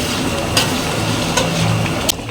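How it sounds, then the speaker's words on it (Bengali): Chicken curry with spices being stirred and simmered, a loud, close, continuous bubbling sizzle with a few brief scraping stirs. "নেড়ে চেড়ে মিনিট 2-3 ফুটিয়ে নেব।"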